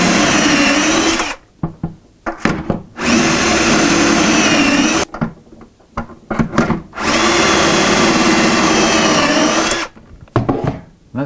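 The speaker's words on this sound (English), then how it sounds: "now I can drill the rest of the holes." A power drill whirs loudly in two long bursts, each several seconds, drilling shelf pin holes in wood with a Kreg jig, with short gaps of clatter and handling noise between them.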